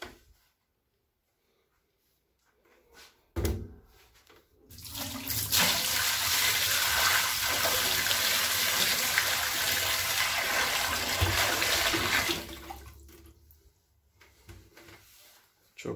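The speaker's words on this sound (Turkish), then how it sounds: "Şimdi bu kovayı dökeyim. Hatta burada dökeyim." Dirty water from an aquarium external filter (OASE BioMaster 350) is poured out of a bucket in one long, loud, steady gush lasting several seconds, following a brief knock and tapering off to a thin trickle at the end.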